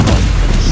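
A Harry Potter video game's Confringo explosive spell lands as one loud, close, booming blast that fills the whole brief moment with a deep, sustained roar.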